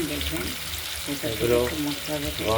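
Ash gourd slices stuffed with a poppy seed, melon seed, cashew and raisin paste fry in oil in a wok, giving a steady sizzle while a voice talks over it.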